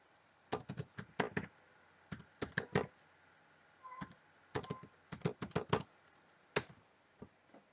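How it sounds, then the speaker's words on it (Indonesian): Clicky typing on a computer keyboard while entering a web address, several short bursts of close, distinct keystrokes separated by quiet pauses in an otherwise silent room. "Kita ketikkan alamat."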